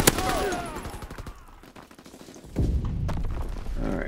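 Gunfire in the Call of Duty WWII video game, a loud cluster of shots and thuds at the start, a quieter stretch, then another heavy burst of firing, with brief talk mixed in.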